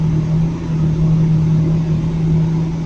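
A McLaren 12C sports car engine runs steadily at idle, a loud, continuous low hum with a strong tonal drone, close by and with no talking.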